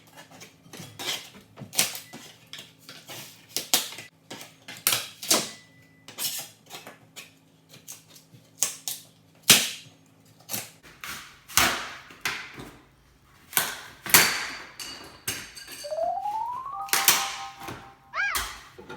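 Laminate backsplash is pried and torn off a kitchen wall in a series of sharp cracks, snaps and clattering knocks. The irregular, close-up bursts are separated by short quiet gaps, with no talking.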